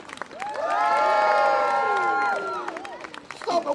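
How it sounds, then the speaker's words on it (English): Spectators at a street performer's rope show in Covent Garden, London, let out a big cheer: a loud swell of shouting and whooping voices that peaks, holds for about two seconds, then breaks into scattered calls. "I get on the rope, everybody massive cheer."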